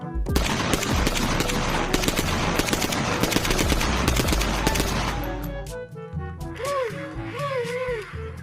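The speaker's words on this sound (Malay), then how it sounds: "lihat teman-teman, keluarlah tembak-tembakan" Rapid, loud bursts of machine-gun fire from a toy gun's sound effects rattle continuously for about five seconds, then give way to warbling electronic siren-like tones.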